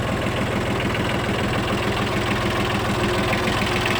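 A Shibaura S315 4WD 15 hp compact tractor engine idles steadily nearby, a continuous low rhythmic chugging with a slight knocking vibration and no pauses.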